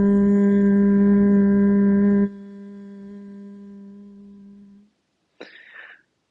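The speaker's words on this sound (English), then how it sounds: "One I would like to review today is just a gentle hum." A single voice hums a gentle mantra as a steady low tone, strong for about two seconds, then softer and fading by five seconds, followed by a brief breathy sound.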